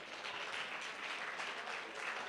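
A dense, continuous round of applause from the audience at an oratory contest, fairly distant and steady for a couple of seconds.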